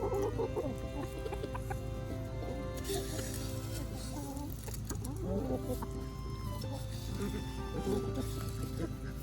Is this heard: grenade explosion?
no